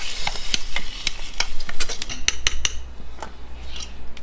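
Tomato is stirred into a sausage casserole in a pot on a Trangia camp stove: a close run of quick scraping and clicking spoon strokes with a light background hiss, and no talking.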